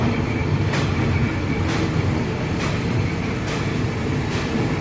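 Thai express train 142 pulls out of Nakhon Ratchasima station at night, with a loud, steady rumble of the moving carriages heard from inside and a soft clickety-clack of wheels over rail joints about once a second.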